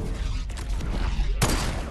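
Two sniper rifle shots ring out in Fortnite, each a sharp crack over a dense, steady wash of game noise, with the second blast louder and longer.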